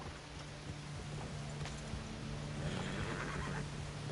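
A horse in the video game Red Dead Redemption 2 whinnies over a steady background hum and low ambient noise, with faint hoof clatter mixed in.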